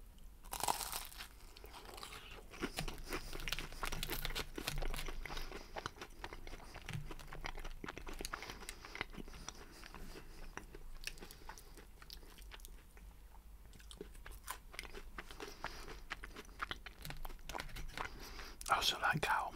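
Crunchy battered fish and chips being eaten close to the mic, with sharp crisp bites and chewing crackles repeating through the clip, and soft whispering heard now and then.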